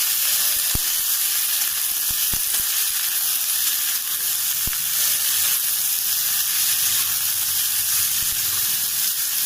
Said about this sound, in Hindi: गोभी आलू को हम खूब बढ़िया भून लेंगे